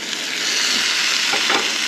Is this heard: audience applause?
no